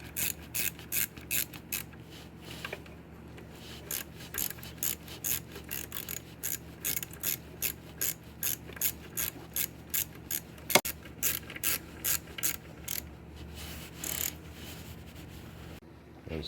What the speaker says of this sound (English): Go ahead and snug those up with a 12mm socket.